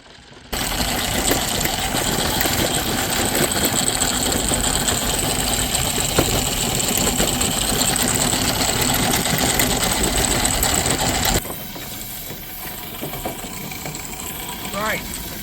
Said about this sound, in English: This little treasure is a Ransom's engine, 1/6 size, and belongs to my friend Codwood.